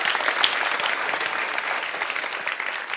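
An audience at a science slam claps in a steady, moderately loud round of applause that lasts throughout, with dense overlapping hand claps and no clear break.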